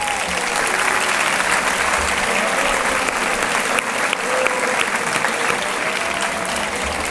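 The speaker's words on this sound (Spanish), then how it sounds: "Un aplaudiment per a ells i elles." Steady, dense applause from a large audience at a vocational-training graduation ceremony for the graduating students, continuous and sustained throughout without a break.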